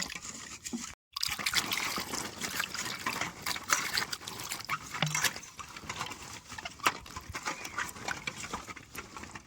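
Hog plums being washed in water: a continuous close splashing and sloshing as the fruit is rubbed and stirred by hand, with brief gaps.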